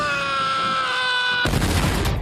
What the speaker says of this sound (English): Tom Cruise screaming like a little bitch.